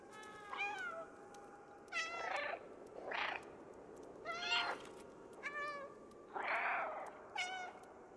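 A cat meowing in the video game Stray: a string of about seven clear, close meows spaced evenly a second or so apart, each standing alone without talk.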